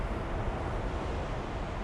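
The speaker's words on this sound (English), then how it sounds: "Isn't it beautiful, the waves?" Ocean waves washing against a pier at night, a steady, fairly quiet broadband rush of surf mixed with wind noise, continuous and without distinct breaks or voices.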